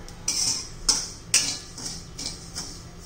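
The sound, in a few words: stirring barnyard millet roasting in a pan on low heat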